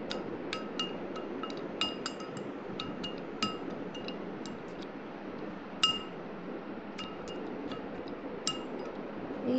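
Raw corn kernels are stirred with soybean oil and spices in a glass bowl, giving a steady close rustle broken by light, irregular clinks of the spoon against the bowl.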